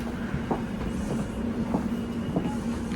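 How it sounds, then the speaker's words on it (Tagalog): The inside of a moving train in London, with a steady rolling rumble and a hum, and soft rhythmic clicks of the wheels going over rail joints, fairly loud and with no voices. "Ito po yung loob ng train namin."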